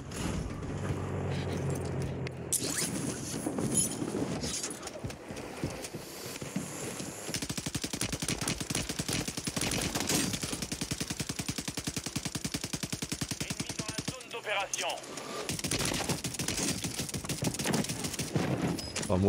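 Rapid automatic weapon fire in the video game Warzone 3, long sustained bursts of fast shots with short gaps between them, loud and dense throughout, with occasional game noise mixed in.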